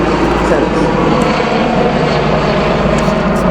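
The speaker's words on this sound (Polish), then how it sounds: "gdzie ten helikopter jest?" A helicopter drones continuously overhead, a steady, loud rumbling whir that neither fades nor swells.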